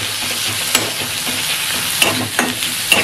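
Steady sizzling of vegetables frying in a pan for a Bengali chochchori, with occasional scraping clicks of a spatula stirring, close up and continuous.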